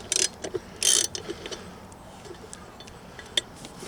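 Set screws on a motorhome mirror are loosened with a tool, giving a few sharp metallic clicks and ratcheting scrapes up close, followed by softer sporadic ticks.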